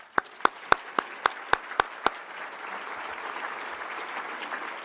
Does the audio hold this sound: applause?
yes